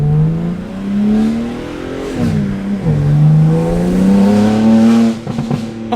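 A BMW G80 with a custom stage 2 tune accelerates hard, its engine note rising loudly and continuously with a dip where it shifts gears, heard from nearby.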